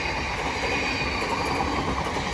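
A Class 707 electric train, unit 707 001, passes through New Cross on the South Eastern Main Line, a steady close rumble of wheels and rails that holds at full strength from start to finish.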